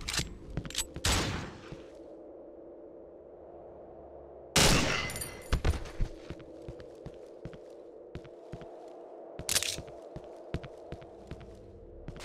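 Gunfire in the horror video game Cry of Fear: several loud bursts of rapid shots, with scattered single cracks and quieter footstep-like taps between them.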